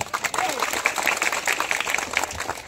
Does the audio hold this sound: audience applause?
yes